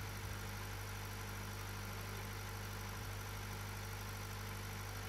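A Mazda 2.2 Skyactiv-D diesel engine with a suspected oil pump chain fault idles with a steady, even mechanical hum and clatter, faint and continuous throughout with no voices.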